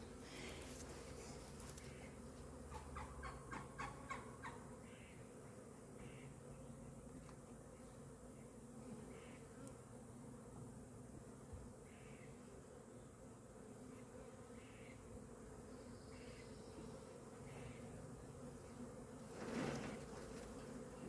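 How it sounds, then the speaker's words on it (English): A bee swarm being shaken and relocated into a permanent hive box, a steady, faint buzzing drone of many bees throughout, with a few brief knocks and rustles nearby. "shake those bees off in there."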